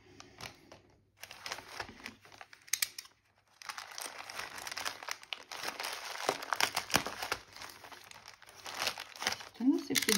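Packaging from an AliExpress parcel crinkles and crackles as it is opened, bursts of rustling and tearing running almost continuously with a short pause near the start, close and fairly loud, while a person talks in French.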